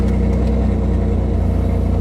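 A 2006 Chevy Corvette Z06 engine runs close and loud, with a steady, deep rumble that pulses evenly throughout and no talking.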